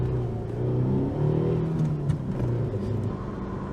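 Eagle Talon DSM with its stock exhaust, heard from inside while driving: a steady, fairly quiet engine hum and low road rumble with a slight rise in revs.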